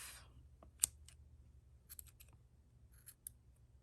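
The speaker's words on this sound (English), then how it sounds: "I got better scissors" Scissors snipping yarn while finishing a basic blue crocheted beanie: a few faint, sharp clicks and snips spread across a quiet room, with one crisp cut standing out near the start and another near the end.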